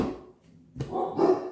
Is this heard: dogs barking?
yes